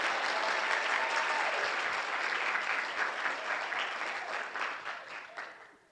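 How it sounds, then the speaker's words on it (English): Sustained round of applause from a research event audience, dense and loud broadband clapping that holds steady then tapers off near the end, with no talk over it. "Let's give them all a round of applause."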